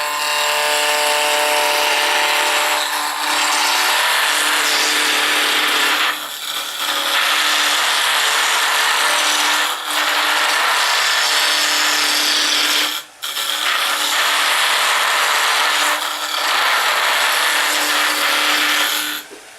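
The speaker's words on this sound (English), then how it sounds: "We turn on our lathe. We anchor our tool on the rest. Then we raise the handle and start to cut." A roughing gouge cutting a spinning piece of wood on a lathe, a loud continuous rasping shear with a steady hum underneath and a few brief pauses, close up and without talk.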